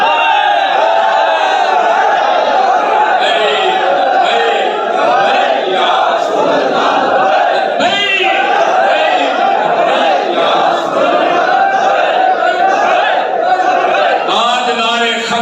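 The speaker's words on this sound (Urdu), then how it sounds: "یا نعرہ انج لاؤ کہ بولو تسی ایتھے تے آواز گنبد خضرا تک جائے" A large crowd at a religious rally shouts slogans in unison, loud and continuous, voices rising in waves with cheers and whoops throughout, a leader's voice mixing in over the roar.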